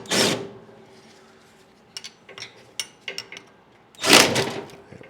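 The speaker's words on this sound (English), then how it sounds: "Let's take out this front bracket bolt" A front bracket bolt is backed out with a ratchet on a Scotts S1642 riding mower with a Tuff Torq K51 transaxle: a burst of clicks, then sparse separate ticks and knocks, then another sharp clicking burst, all close up with no talk.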